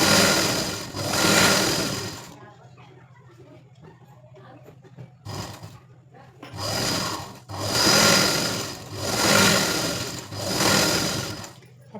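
Sewing machine stitching a tuck on a blouse in several loud bursts separated by quiet pauses, close and mechanical with no talk.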